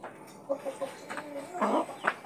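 Ekor Lidi ornamental chickens clucking nearby in a short run of quick, moderately loud clucks, ending with a louder drawn-out call.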